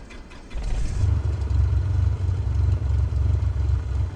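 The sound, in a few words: Cessna 172SP engine starting in video game MSFS 2024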